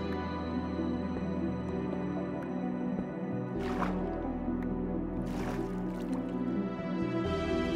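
Water drips in a Minecraft sewer, with two distinct splashing drops over a steady low hum.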